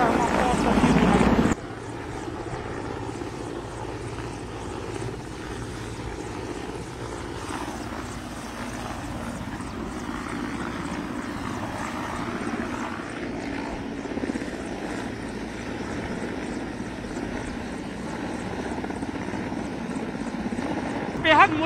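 A helicopter hovers over a building in Delhi during an NSG commando counter-terror operation, its steady rotor and engine drone filling the scene while a reporter talks over it throughout.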